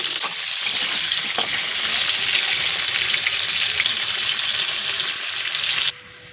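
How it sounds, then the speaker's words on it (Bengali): Potato pieces frying in hot oil with a dense, steady sizzle that stays loud and continuous, then cuts off sharply near the end, leaving quiet background. "আলুগুলো একটু ব্রাউন কালার করে করে ভেজে নেব।"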